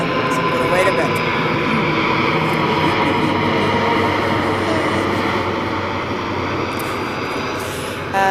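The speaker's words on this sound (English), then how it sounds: "Plane is seriously approaching." Airplane approaching overhead, a loud continuous engine roar that fills the whole stretch and holds steady as it passes close above.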